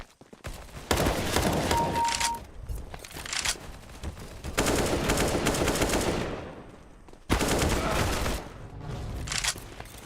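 Gunfire in the game CS:GO: loud, sustained automatic bursts in three long rapid volleys separated by short gaps, close and dominant, with no talk.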